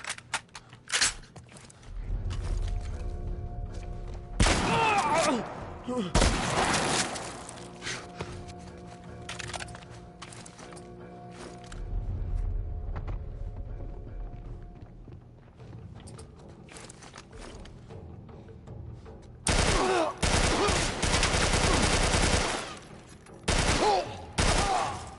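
Automatic gunfire from a recoiling rifle in the video game The Last of Us Part I, with loud, dense bursts early on and again near the end, separated by quieter stretches of ambience and movement.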